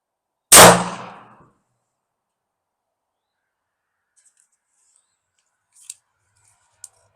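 A Beretta 84F handgun fires a single loud, sharp shot that rings out and decays over about a second, followed by long quiet broken only by a few faint small clicks.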